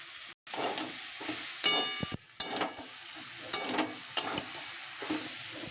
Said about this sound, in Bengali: ওলের ডাঁটাটা একটু ভাজা ভাজা হয়ে গেছে